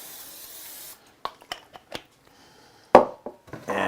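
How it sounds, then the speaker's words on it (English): Short hissing spurts of olive oil spray coat crab in a kitchen, several brief bursts separated by quiet gaps, close and crisp, with a longer spray near the end. "You can see virgin olive oil or olive oil. And I give it a nice little coating."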